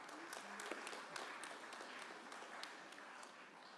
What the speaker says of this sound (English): Let's give that another round of applause.